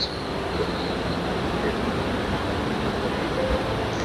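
Mountain water near Sonprayag rushes in a steady, dense roar that fills the whole clip at a constant level, with no talk over it.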